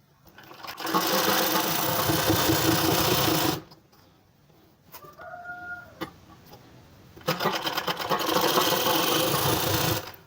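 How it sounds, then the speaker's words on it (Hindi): Sewing machine stitching a fabric seam for a short kurti top, a loud, steady mechanical whir for several seconds that stops for a quiet pause with a rooster crowing nearby, then starts up again. "1/2 इंच का मार्जिन लेते हुए हम इसमें स्टिच लगाएंगे"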